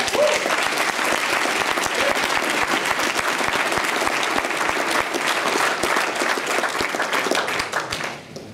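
A conference audience at ICBC Berlin 2017 applauds a panel with dense, sustained clapping from a crowd that fades slightly at the end.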